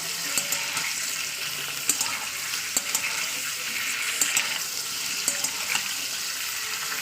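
Chicken pieces fry in a little oil in a home kitchen pan, giving a steady crackling sizzle with scattered sharper pops and faint clinks throughout, moderately close and without talk.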